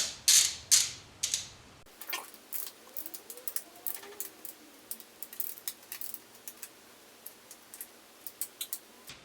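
A ratchet wrench clicks in short bursts while snugging the bolts on an aftermarket Woodcraft stator cover on a 2015-or-later Yamaha R1, close and fairly loud, with a few brief metallic taps between bursts.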